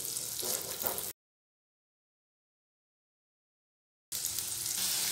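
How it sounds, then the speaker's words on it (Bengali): Chopped onion fries in oil and butter with a steady, hissing sizzle, heard close and moderately quiet in two short stretches separated by a complete gap of silence. "পেঁয়াজটা সফট হওয়া পর্যন্ত ভেজে নেব।"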